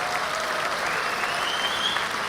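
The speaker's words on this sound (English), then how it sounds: "you just got a huge round of applause" Sustained audience applause fills a gala anniversary event, a dense steady wash of clapping from a large crowd throughout.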